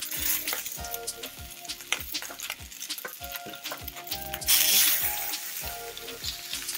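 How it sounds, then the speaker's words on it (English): Oxtail meat sears in a hot, smoking, oiled pan, giving a steady close sizzle broken by clinks and scrapes of tongs against metal, with a brighter burst of spitting fat partway through. "It's important not to overcrowd the pan when searing any meats."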